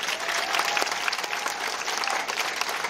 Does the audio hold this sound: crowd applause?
yes